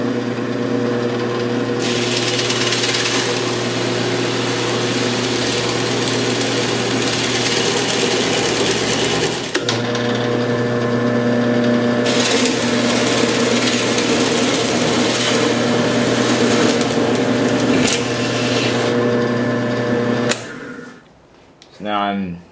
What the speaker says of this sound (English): I'm just going to turn the drill press on